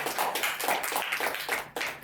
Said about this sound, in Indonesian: Natural sekali tepuk tangan